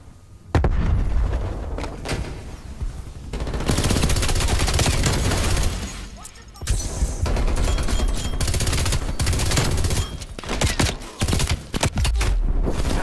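Sustained automatic fire from an MG 82 machine gun in a Black Ops Cold War multiplayer match, loud dense bursts running nearly the whole time with brief pauses between volleys.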